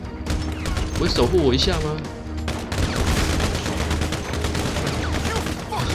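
Gunfire shooting zombies in a GTA 5 zombie mod, with rapid bursts and repeated shots under excited talking, loud and close, easing slightly midway before resuming.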